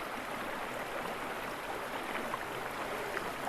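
Meltwater of the Velino river rushes from the Marmore falls through the Apennine mountains, a soft, even broadband hiss of flowing water with no other sounds.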